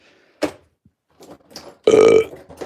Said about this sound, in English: Someone's burping.